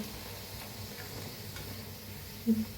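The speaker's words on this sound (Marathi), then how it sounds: "आता तळून घेऊया प्रेस करूया" Bhature fry in hot oil, making a steady soft sizzling hiss close by, with a brief bubbling pop near the end and no speech.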